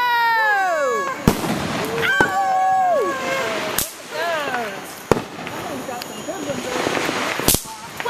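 New Year's fireworks in Florida, several sharp loud bangs at irregular intervals with whistling, rising streaks between them, while people talk and call out nearby.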